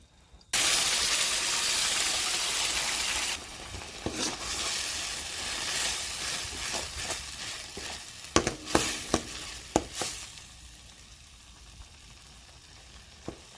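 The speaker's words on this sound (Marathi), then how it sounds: "तर मसाला चांगला भाजून घ्यायचा आहे." Ground masala sizzles and fries in oil and butter in a kadai with red chilli powder and turmeric, a loud steady hiss that settles into lighter crackling, punctuated by sharp stirring clinks of a spoon against the pan.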